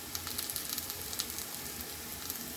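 Food frying in a pan with dried chili powder added, a steady close sizzle broken by small crackling pops, with no voices.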